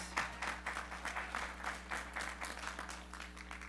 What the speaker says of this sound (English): Yes, yes, applause.